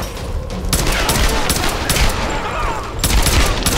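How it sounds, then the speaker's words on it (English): Sniper gunfire in the Tomb Raider video game on Xbox 360: loud, dense rapid shots and rattling bursts from enemies, close and intense throughout. "They're sniping up here,"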